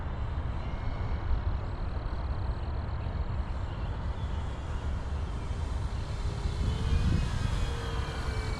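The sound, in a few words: RC warbird airplane accelerating and taking off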